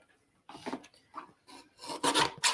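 A paper trimmer slices through sheets of designer series paper in a craft studio, giving several rasping strokes that build in loudness, close and dry with no talking.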